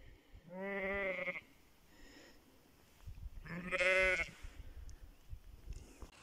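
Two drawn-out sheep bleats ring out clearly, one early and one later, with quiet farmyard background between them and no talking.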